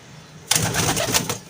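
After a moment of quiet, a high-flyer pigeon starts cooing softly and throatily at close range, with a faint flutter of movement.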